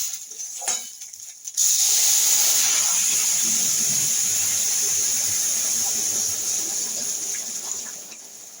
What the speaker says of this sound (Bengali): এই যে ফুটন্ত জল আমি এটা দিয়ে দেবো এবার চালের উপর